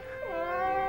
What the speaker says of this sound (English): Your cat was scared, wasn't she?